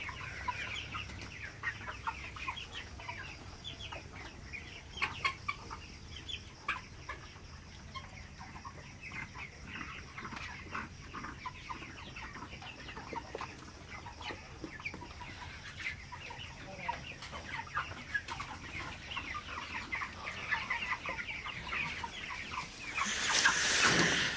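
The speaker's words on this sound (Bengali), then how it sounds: "তো সবই বড় সাইজের মোরগ, আর এখানে একটাও মুরগি নাই, সব মুরগি মোরগ।" Large broiler roosters on a farm cluck and murmur continuously as a dense flock, fairly faint and distant with scattered louder calls, growing louder at the very end.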